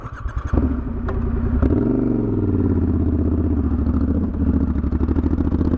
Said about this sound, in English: She's got beans, this bike. I'm going for a second gear start, me.